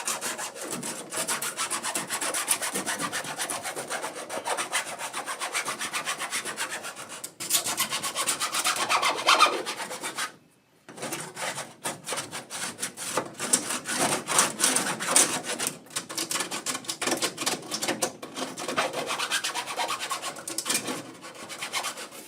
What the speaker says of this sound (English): I just want to make sure I get all the burrs off.